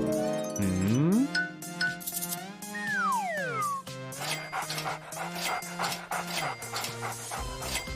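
A dog in a pet shop video game barks, pants and whimpers with rising and falling yelps, close and loud, the sounds continuing for several seconds without talk.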